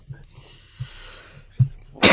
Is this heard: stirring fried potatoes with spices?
no